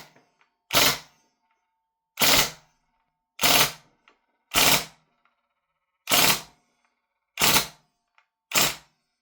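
A Northeast Mini UZI gas blowback airsoft gun fires seven sharp, close bursts, each a quick, loud rattle of shots separated by a second or so of near silence.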